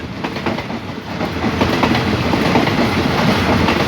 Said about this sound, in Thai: ตอนนี้ขบวนรถก็ผ่าน บริเวณเครื่องกั้นวัดหลักสี่